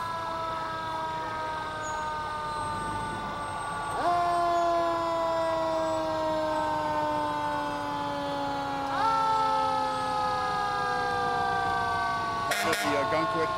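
A fire ladder truck siren wails steadily in long, slowly falling tones that restart twice, loud and nearby over a rumbling engine, during a Christmas parade in Wells, Maine.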